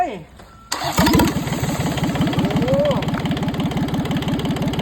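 A Yanmar 3TN63 three-cylinder diesel engine cranks briefly, catches and settles into a steady, rapid chugging idle close by, with a voice speaking just before it starts.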